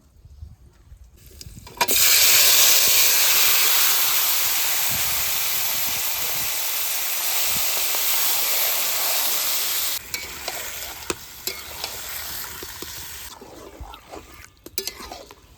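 Marinated stingray fish hits a wok of hot oil with fried cumin seed tempering, bursting into a loud sizzle that slowly settles, followed by quieter frying and occasional clatter of stirring.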